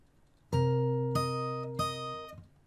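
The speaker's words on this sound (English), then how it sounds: "So 27 altogether, slowly, sounds like this" Fingerstyle guitar playing a slow passage, three distinct plucked notes and chords ringing out one after another, close and clear with no talking.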